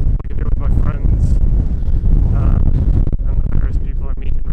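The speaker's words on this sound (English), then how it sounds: "Oh, it's windy." Gusts of wind buffet a microphone outdoors, producing a loud, low, rumbling roar that surges and drops unevenly while a person keeps talking through it.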